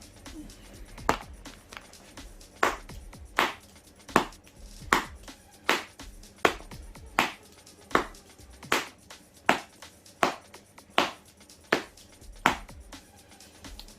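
Baseball repeatedly popping into a Mizuno Pro cross-web infielder's glove being broken in, about a dozen sharp leather smacks at a steady pace of roughly one per second, close and alone.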